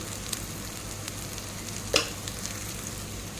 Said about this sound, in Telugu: ఈ ఫ్లేవర్, ఆకు ఫ్లేవర్ అంతా పట్టుకునేంత వరకు ఫ్రై చేయాలి